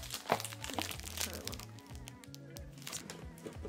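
Packaged 2-inch emerald green and gold ribbon being handled, its plastic wrapping crinkling and crunching in short bursts close by, with music playing underneath.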